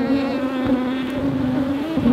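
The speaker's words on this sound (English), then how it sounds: "it is making the already aggressive bees even more mad" Close, dense buzzing of many agitated bees around a beehive, a steady droning hum with slight wavering pitch, loud and continuous.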